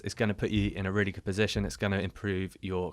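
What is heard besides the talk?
No everyday noises stand out.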